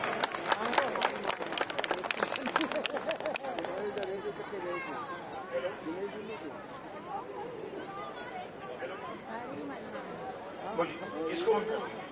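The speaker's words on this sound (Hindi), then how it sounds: "मंजू जी जोरदार तालियां हो जाए एक बार।" Loud applause from a crowd at a Hindu festival gathering, a burst of dense clapping at the start that fades into crowd chatter and background voices.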